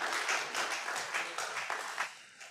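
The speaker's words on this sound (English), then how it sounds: "Please, can we give them a wonderful round of applause once again?" Applause from a conference audience at a scientific meeting, fairly faint and distant, with rhythmic clapping that tapers off toward the end.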